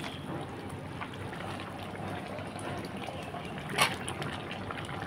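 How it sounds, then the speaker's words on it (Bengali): Chicken curry broth bubbling in a pot on the stove, a faint, steady simmering gurgle with one brief louder splash or clink partway through. "এই যে তরকারির ঝোলটা ফুটে উঠেছে"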